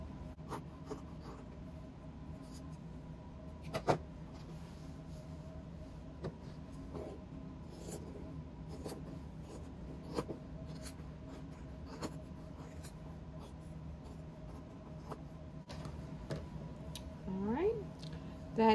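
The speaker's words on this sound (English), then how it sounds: "I'm going to take this as a template and just get on the edge where it's even and where there are no holes where I've cut other stuff out. And I'm just going to cut around it." Scissors cut sewing fabric around a template for a bowl cozy, with faint, quiet snips and small rustles recurring at an irregular pace in a calm room.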